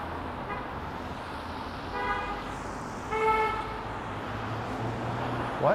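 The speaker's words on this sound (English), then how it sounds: "What is all the honking about?" Car horns honk on a busy Midtown Toronto street, a few short and longer toots sounding over steady traffic rumble at moderate distance, with no voices.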